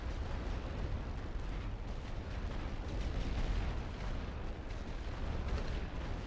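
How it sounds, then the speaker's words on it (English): Light artillery in the World War I strategy game The Great War: Western Front fires in a dense, continuous barrage of rumbling booms and bursts, steady and fairly distant, with no talk. "the light artillery is not going to manage to get the job done"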